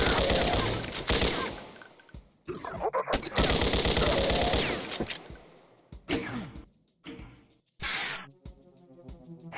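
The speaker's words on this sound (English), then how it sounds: "BFG small weapon that fires bullets like a shotgun," Rapid bursts of shotgun-like BFG weapon fire in a Doom video game, loud clustered blasts in quick volleys separated by short gaps.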